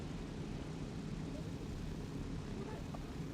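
Airplane cabin noise in the video game Arma 3: a constant, dense low drone of engines and airflow, steady and unbroken for the whole stretch.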